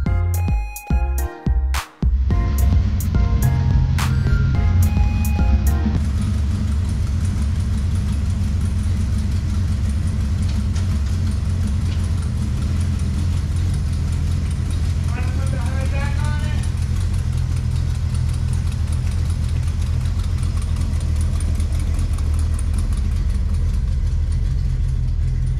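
A car engine fired up after an engine swap settles into a steady low idle, rumbling close by after a few clicks and clunks at the start, with people talking faintly over it.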